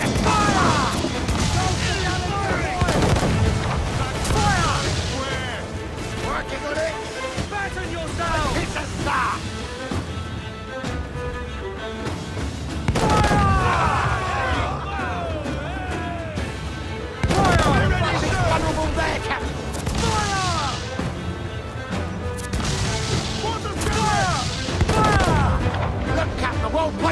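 Ship cannons booming in Assassin's Creed IV Black Flag naval combat at sea, repeated heavy blasts and crashes over a dense battle din with shouting crew voices throughout.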